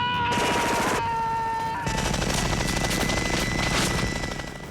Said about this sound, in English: Shooting those many bullets coming through that gun,